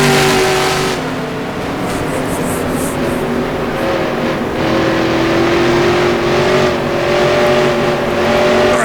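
Loud, close engine roar from 1960s NASCAR race trucks in the NR2003 video game, several motors droning together in sustained high revs, their pitches sliding and layering as the pack runs continuously.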